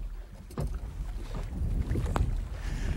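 Wind gusts across open water during crappie fishing from a small boat, a steady close rushing and buffeting on the microphone that swells slightly louder after the first half second, with no talking.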